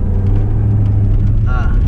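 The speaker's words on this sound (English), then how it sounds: "we were waiting to cross the intersection and 2 cars just went flying by" Two cars speed through an intersection, a loud continuous low engine rumble and road roar close by, with a brief whining rise near the end as one pulls away.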